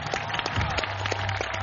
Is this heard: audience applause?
yes